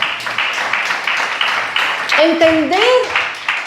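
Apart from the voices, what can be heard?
congregation applauding in church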